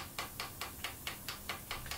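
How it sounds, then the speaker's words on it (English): A hammer peens over a rivet on a folding pocket knife clamped in a vise, nine sharp, evenly spaced metallic taps about a quarter second apart, close and moderately loud with no talking. "I've clamped it in the vise and I'm just going to rivet the top end over first."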